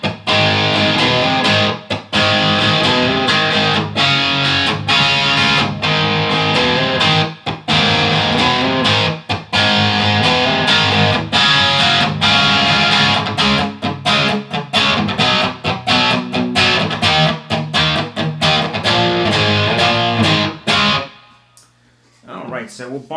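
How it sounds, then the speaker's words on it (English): A Flying V electric guitar built from a kit, played through light overdrive, with loud distorted chords and riffs that stop abruptly near the end and leave a brief hum. "But here is a little light overdrive."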